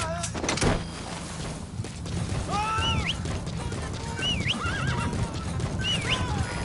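Horse in the game Metal Gear Solid V whinnies in several short rising cries over a steady clip-clop of hooves and wilderness ambience, moderately close.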